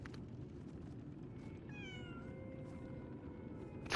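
A cat meows in the video game Lies of P, a single drawn-out, falling meow in the middle, close and clear over a quiet low background hum.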